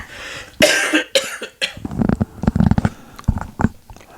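A few sharp coughs burst out near the start, followed by rough, throaty noises and short sputtering sounds, close to the microphone.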